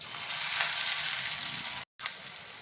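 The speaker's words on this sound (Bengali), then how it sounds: "এই যে তেলে পাকোড়া দিচ্ছি, সেই শব্দ শুনে" Cabbage pakoras fry in hot oil in a kadai, giving a close, steady crackling sizzle that breaks off for a moment and then resumes.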